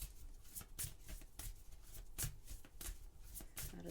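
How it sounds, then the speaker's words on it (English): Romantic Lenormand cards being shuffled, a run of soft, quick riffling and flicking bursts, close and fairly quiet, with no talk. "So I'm just going to pull some romantic Lenormand cards to see how your person is feeling about you."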